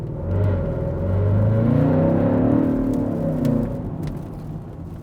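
Urban V8 Land Rover Defender with a Miltech exhaust, heard from inside with the windows up: a loud, deep engine rumble that swells and revs steadily throughout, with no voices.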